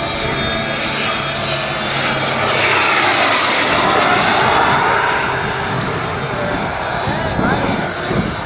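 An airplane engine roars through an aerobatic display, loud and continuous, swelling and easing with the manoeuvres as the aircraft moves through the sky.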